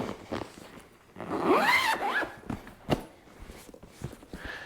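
A short zipper pull on a foam pad's cover, close up, followed by rustling and handling noises with a few soft thumps.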